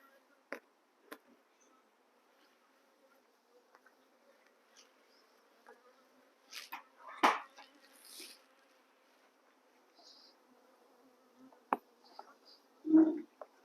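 Honeybees buzz quietly while a cutout colony is moved into a new hive, a faint steady drone broken by several close, louder buzzing passes and sudden sharp bursts.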